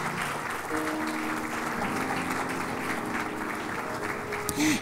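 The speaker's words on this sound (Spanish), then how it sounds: "Dale un fuerte aplauso, Señor," A church congregation applauds during a sermon, with steady broad clapping under a held musical tone and a brief sung or spoken sound near the end.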